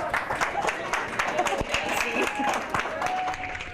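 A crowd of hundreds outside the Ada County Courthouse in Idaho claps and cheers continuously at close to mid range, with dense, steady applause and scattered voices mixed in.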